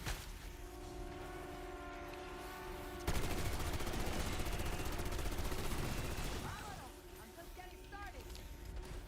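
In Citadelle des Morts, a Call of Duty Zombies map, an upgraded gun fires in a long dense rapid burst. Game music and a sustained tone sit under it, and someone talks over the shooting.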